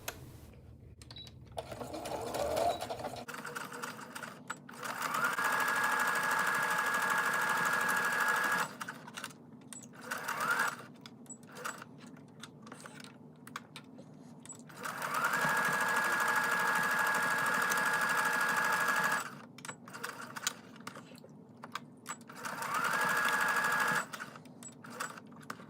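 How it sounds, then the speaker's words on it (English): A sewing machine runs a straight stitch on a towel dress in three sustained motor bursts with a steady whine, separated by quieter pauses with handling noises. "I'm going to sew a straight stitch here and here"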